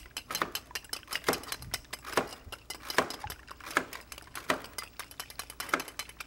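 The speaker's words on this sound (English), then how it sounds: "Now I'm going to whisk it up." Egg beaten in a bowl with a utensil, giving quick clinking taps against the bowl in an uneven, steady rhythm, close and fairly crisp, with no talk.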